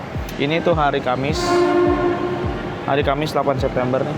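A Senja Utama passenger train on the Yogyakarta route lets out a loud, sustained horn blast of about a second and a half, between stretches of close talk.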